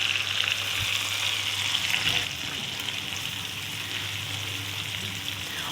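Tomato paste frying in oil with masala and dried coriander over a low flame, a steady close sizzle with faint stirring scrapes running throughout.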